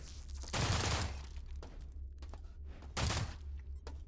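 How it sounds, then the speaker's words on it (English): Two bursts of rapid assault rifle fire in the video game System Shock, with an incendiary modifier, each about half a second long with loud crackling reports, separated by quieter game ambience. "Testing how many shots that takes."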